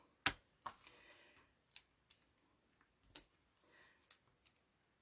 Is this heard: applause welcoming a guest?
no